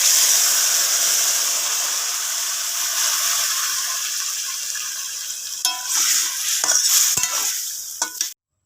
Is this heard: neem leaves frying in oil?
yes